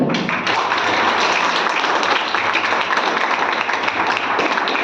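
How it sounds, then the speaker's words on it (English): Students and audience at a business school startup presentation session clapping throughout, a steady, dense round of applause filling the room without talk. "a bigger round of applause for all the students who proactively asked such intelligent questions"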